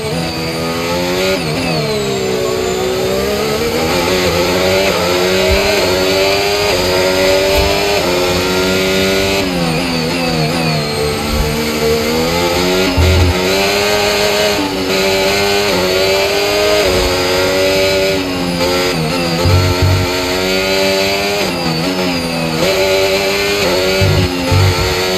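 Formula 1 cars in the F1 25 video game scream at high revs for the whole stretch, the engine pitch sweeping up and down through repeated shifts and corners, loud and steady with no talk.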